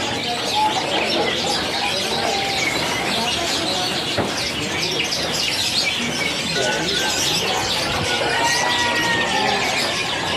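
Canaries for sale at an Indonesian bird market, including white and panda-colored birds, chirp and tweet in a dense, steady chorus with busy market noise throughout.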